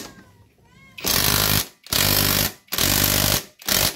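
A pneumatic impact wrench tightens a Rouser motorcycle clutch nut in four loud bursts, each about half a second long, separated by brief pauses, with faint noise beforehand.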